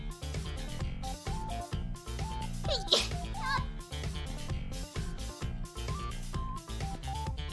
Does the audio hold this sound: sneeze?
yes